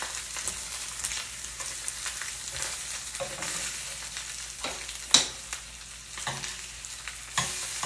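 Already-cooked corned beef heating in a cast iron pan gives a steady close sizzle and fry, broken by a few scraping stirs and small pops, with no talking.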